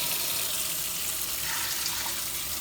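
Water pours steadily into an Instant Pot for cooking beans, a loud continuous rushing splash with no voices over it.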